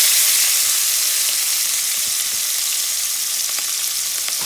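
Peppers frying in oil for Puerto Rican sofrito, cooked in the same grease left from the sausage; a steady, loud sizzle runs throughout with occasional small pops and stirring clicks, no voices.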